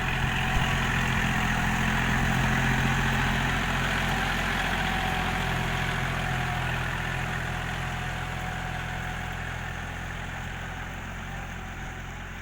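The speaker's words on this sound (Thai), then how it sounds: "ไถปัดดินออกจากคนาครับ ข้างๆคนาแล้วก็จะไถปัดออกครับ" A Kubota L4018 tractor ploughs a rice paddy, its diesel engine a steady, loud, droning hum with a deep low rumble, constant for the whole stretch and slowly easing slightly in level, with no talking.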